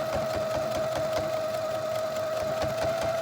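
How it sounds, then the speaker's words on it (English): Close and continuous, a sewing machine top stitches a zippered pouch with a slow, even mechanical hum and a faint rhythmic knock, steady throughout with no voices. "Your top stitching, just go slow and easy, okay? That way it turns out nice and straight."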